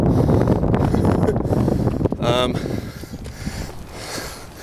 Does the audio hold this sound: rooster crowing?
no